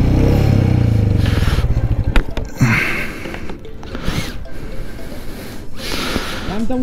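A motorcycle skids and falls in deep desert sand in Ladakh's Nubra Valley: a loud engine drone cuts off into a sharp clatter and scrape, followed by rustling and movement nearby.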